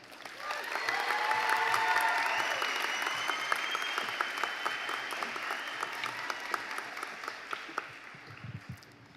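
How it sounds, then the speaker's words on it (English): A college convocation audience applauds as the valedictorian is welcomed, the clapping swelling quickly to a full, sustained roar, then gradually thinning into scattered claps over about nine seconds. "a warm round of applause as we welcome Valedictorian Meghan Newell."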